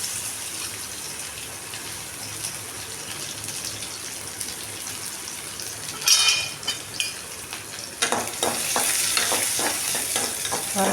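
Chopped small onions, garlic and cashews sizzle in a hot pan for egg rice, a low steady frying hiss that bursts louder partway through, then rhythmic scraping stir strokes over a stronger sizzle, close and alone.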